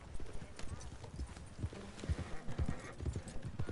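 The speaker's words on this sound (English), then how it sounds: "That's my horse." Horse hooves clip-clop in Red Dead Redemption 2 online on PS4, an irregular run of soft thuds at moderate distance, mixed in with game dialogue voices.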